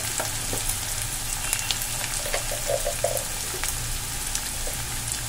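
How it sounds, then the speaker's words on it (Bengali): Food sizzling steadily in a pan on medium heat while being stirred, with a continuous close frying hiss and a few soft scraping stirs, no talking. "একটু লাল লাল হওয়া পর্যন্ত আমাকে অপেক্ষা করতে হবে"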